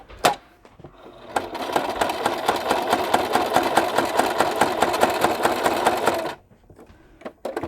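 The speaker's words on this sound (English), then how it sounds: "I'm going to sew this card onto this background." A sewing machine stitches a card onto a background with a fast, even mechanical chatter lasting about five seconds, close and clear, bracketed by brief clicks before and after.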